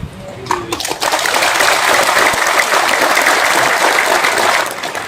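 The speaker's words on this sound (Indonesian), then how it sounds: "Saya sebenarnya nggak bangga dengan tepuk tangan." A crowd at an Indonesian sermon in Cilacap breaks into loud, sustained applause, a dense wash of many hands clapping that swells quickly and holds steady for several seconds.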